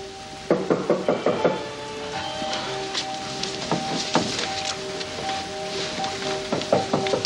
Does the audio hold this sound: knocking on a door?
yes